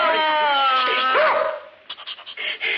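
A dog yelps and whines in loud, close, pitched cries, followed by short choppy barks and panting sounds.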